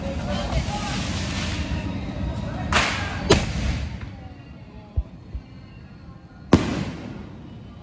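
Diwali skyshot fireworks burst in a backyard-style display, with several sharp loud cracks spaced a few seconds apart over a steady crackling, hissing background, while people talk nearby.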